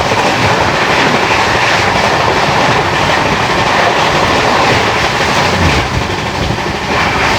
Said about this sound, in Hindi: सामने से आ रही है चेन्नई गरीब रथ एक्सप्रेस।